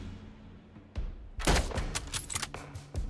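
Gunfire in a first-person shooter set in London, fired at a distant target: a few sharp, loud cracking bursts close together midway through, over a low game background hum.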